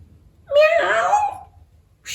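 A human voice imitates a cat's meow at a door, one drawn-out, rising and falling mewing call that is clear and close, followed by a brief breathy sound.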